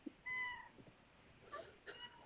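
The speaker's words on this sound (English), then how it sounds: "sharing his beautiful kitty" A house cat meows during an online group meeting: one drawn-out meow, then two short, faint chirping mews, quiet and close to the microphone.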